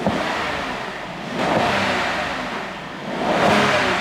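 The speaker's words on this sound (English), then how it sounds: "just hear that V12 sound. Sounds absolutely amazing," A Rolls-Royce Ghost's powerful V12 engine revs up twice, rising and swelling each time before settling, loud and close with no talking.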